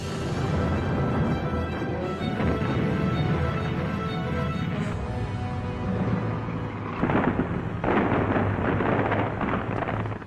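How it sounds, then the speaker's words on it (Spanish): Distant Soviet artillery at Stalingrad booms and rumbles in a continuous low roll, with heavier thuds breaking through near the end, no voices present. "las tropas alemanas oyen cañonazos distantes procedentes del noroeste y del sur"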